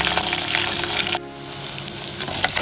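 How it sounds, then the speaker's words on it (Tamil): Onions sautéing in hot oil with curry leaves for an anchovy tamarind fish curry, giving a loud, dense sizzle that drops in intensity partway through and then carries on more softly, with light stirring and no speech. "நல்லா எண்ணெய் காஞ்சிருக்கு, வெங்காயம் போட்டாச்சு, இப்போ லைட்டாக வதக்கிக்கோங்க"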